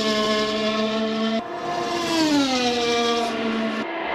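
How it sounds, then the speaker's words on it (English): F1 car engine from the ACFL mod in the Assetto Corsa racing game, lapping Suzuka: a loud, high whining tone that sweeps through gear changes with brief drops between shifts, no talking. "And you may enjoy the engine sound in here."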